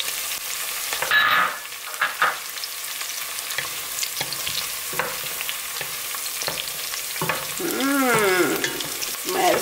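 Garlic and onion frying in a pot for beef stew with cabbage: a steady close sizzle with occasional stirring scrapes and clinks.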